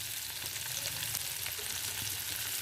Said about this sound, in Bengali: তো এখানে আমি 6টা কাঁচা লঙ্কা দিয়েছি, দিয়ে আমি পেঁয়াজটাকে ভালো করে ভেজে নেব।